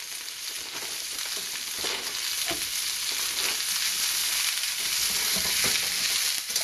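Dried red peppers are stirred and fry in a hot pan while Sichuan string beans are being made. A continuous bright sizzle runs throughout, with soft scrapes and clicks of stirring now and then, close and steady, and no talking.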